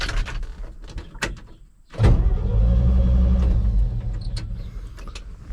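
A 1964 Chevy grain truck engine cranks over on the starter after a couple of faint clunks, a loud, steady churning drone that runs close and uninterrupted for several seconds.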